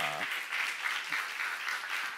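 A church congregation claps together through a Bible seminar on Revelation, with sustained, dense, loud applause after a brief voice at the start.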